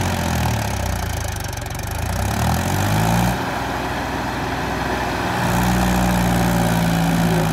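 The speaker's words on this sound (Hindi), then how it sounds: "कैसे लहराता हुआ आ रहा है भाई ट्रैक्टर" A Mahindra 265 tractor engine runs steadily under full load on a farm, with a loud, constant diesel drone and throbbing low rumble that shifts slightly in pitch, close by and alone.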